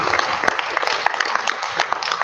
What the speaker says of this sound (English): Let's give a round of applause to the disaster relief community